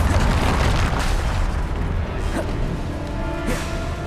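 A Bombarda spell detonates in Hogwarts Legacy with a deep rumbling boom, followed by lighter bursts and magical crackles under a continuous low roar of combat.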